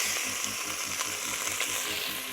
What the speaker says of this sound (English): You want the pan nice and hot, and then start crumbling that meat in there.